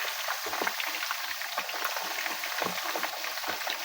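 Chicken Manchurian pieces fry in oil over a medium flame, giving a close, even sizzle dotted with small pops and a few light stirring clacks, with no talking.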